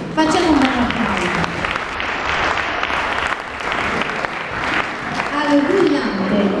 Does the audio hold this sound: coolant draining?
no